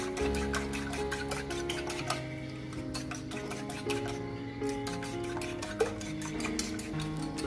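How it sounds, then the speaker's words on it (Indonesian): A mixture with salt and mushroom stock whisked in a bowl, quick faint tapping and scraping strokes in a steady rhythm over background music. "Ini kita aduk-aduk atau kita kocok-kocok sampai tercampur rata"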